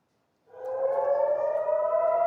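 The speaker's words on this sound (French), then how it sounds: "les sirènes d'alarme ont retenti des dizaines de fois en Israël, annonciatrice de frappes de riposte iranienne" Civil defense air raid siren in Israel rises from silence after about half a second into a steady, loud wailing tone that holds to the end, heard alone without voices.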